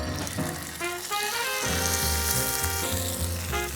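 Fish frying in a hot pan gives a loud, steady sizzle with crackling spatter that swells after the first second and holds, close and continuous, with no voices.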